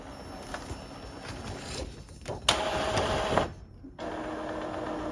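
An Epson 2760 inkjet printer feeds and prints on cardstock, giving a steady mechanical whirr with shifting carriage passes and brief pauses, close and continuous with no talk.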